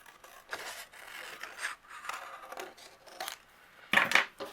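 Paper button being trimmed out with scissors for card making, with a series of faint, close snips and rustles spread across the clip and a louder cut near the end.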